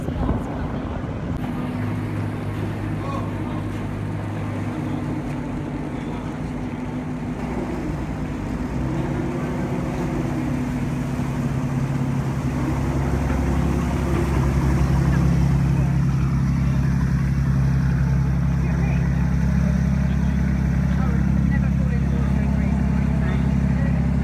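A coast guard boat engine drones steadily with a deep low hum, joined midway by a louder, heavier rumble, amid wind and water noise on a swelling sea.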